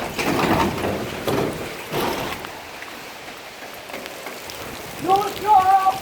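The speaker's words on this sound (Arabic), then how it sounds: "يوم المطر قوي نمشي بالشارع ونشوف." Heavy rain in Basra falling on a street, a steady broadband wash with louder bursts early on and a voice murmuring briefly near the start, then a short high whistling tone near the end.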